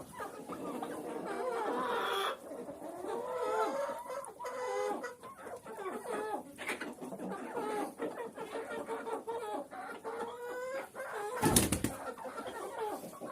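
Many chickens, bantams and hens, cluck and chatter together nearby while feeding, with a brief flutter of wings near the end and a few quiet voices underneath.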